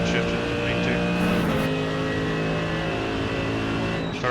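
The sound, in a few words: Mercedes AMG GT3 engine after downshift, iRacing video game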